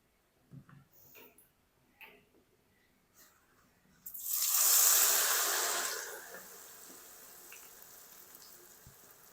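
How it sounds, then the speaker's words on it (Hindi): Aloo suji snacks of potato and wheat dropped into hot oil, a sudden loud sizzling hiss that swells then settles into a steady softer crackle, preceded by a few quiet handling clinks. "तो सारे मैं फ्राई करके रेडी कर लूँ स्नैक्स"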